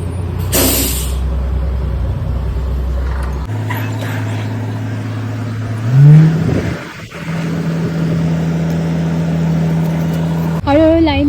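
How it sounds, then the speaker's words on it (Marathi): Cars and a school bus idle, then pull away in turn on an American street, engines droning and rising in pitch as they accelerate, with an air-brake hiss and a voice talking over the traffic. "बस आल्यावर गाड्या किती मागे थांबतात बघा"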